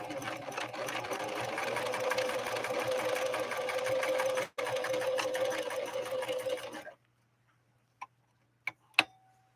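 A Husqvarna Model 145 sewing machine runs steadily as it stitches a blind hem, a close, rapid mechanical chatter that pauses briefly and then stops, followed by a few sharp clicks and taps in near silence.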